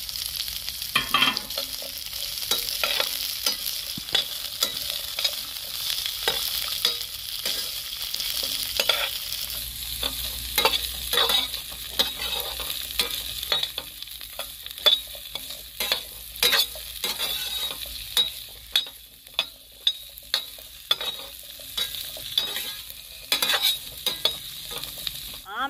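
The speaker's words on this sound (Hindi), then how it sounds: "हरी मिर्च को 2-3 मिनट तक हमें अच्छे से भूनना है" Amla and green chilies roast in a pan for a pickle, a close dry sizzle broken by frequent sharp crackles and pops with irregular stirring scrapes, no voices.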